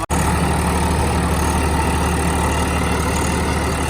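A Swaraj 855 tractor engine fitted with a new silencer idles loudly and evenly up close, a steady low thrumming with a regular pulse and no talking.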